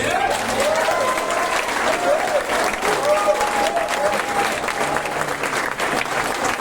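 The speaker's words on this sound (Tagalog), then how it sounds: "Pwede bang lakasan yung palakpak ninyo sa PGH?" A crowd applauds at a public event in the Philippines with continuous, fairly loud clapping, while a voice rises and falls over it and a few faint cheers mingle in.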